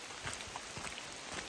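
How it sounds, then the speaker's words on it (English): Steady rain falling all around on a hike south of Mount St. Helens, a constant soft hiss with scattered drop patters, even and unbroken throughout. "I might adopt an umbrella on days like this where it's just solid rain all day"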